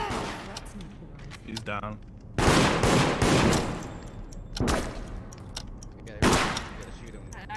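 Gunfire from the video game Deceit, loud bursts of rapid shots at about 2.4, 4.6 and 6.3 seconds between quieter stretches, with excited players talking over the action.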